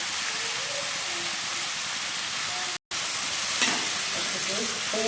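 Dry fish gravy with salt cooks in a pan with a dense, continuous sizzling hiss, cut by a momentary silence, then a light scrape of a utensil; close and loud, no speech.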